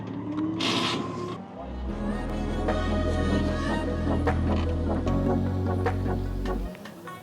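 Drift car engine idling and revving nearby, a deep steady drone with shifting pitch, accompanied by clicks and mechanical clatter in the background.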